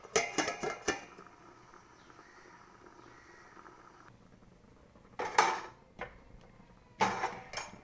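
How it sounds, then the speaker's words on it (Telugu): Metal clatters near the start, then a lid is set on a pot of fish pulusu with a few sharp close clinks and rattles, separated by quiet stretches and with no talking. "ఒక 10 మినిట్స్ మరిగే వరకు మూత పెట్టుకుందాం."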